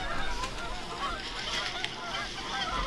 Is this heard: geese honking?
yes